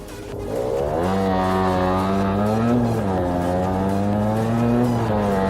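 A motorcycle is ridden along a road, its engine holding a steady, loud drone that rises and falls slightly with the throttle for several seconds.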